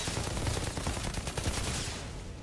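Rapid gunfire from a weapon in the Outriders shooter sounds as a dense, continuous burst of sharp shots close up, loud and unbroken for the whole stretch.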